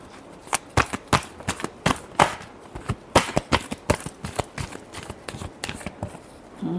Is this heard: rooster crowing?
no